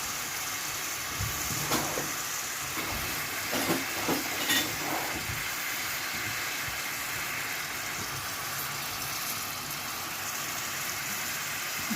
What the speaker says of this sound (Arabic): سيبوها بقى تتكرمل زي ما انتوا شايفين كده، نقعد نقلب فيها